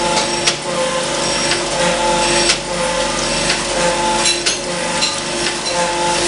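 A surface grinder with coolant running grinds a collet block square, giving a steady close-up broadband grinding hiss with faint periodic rises as the wheel passes over the workpiece.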